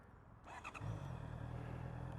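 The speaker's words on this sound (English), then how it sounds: "I feel like I need to turn the bike off, start it" A Honda E-Clutch motorcycle cranks over and fires up, settling into a steady low idle rumble close by, alone without talk.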